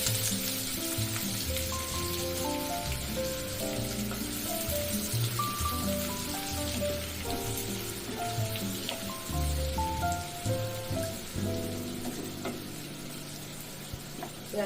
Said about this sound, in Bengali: পেঁয়াজটা সামান্য ভাজা হলে